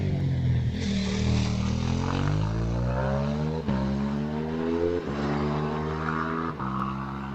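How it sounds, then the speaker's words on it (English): A 500cc Aprilia racing motorcycle crosses a hillclimb finish line, its engine screaming loud and close with a steady high-revving whine that shifts pitch through several gear changes over seven seconds. "This is a 500 Aprilia, just going over the finish line now"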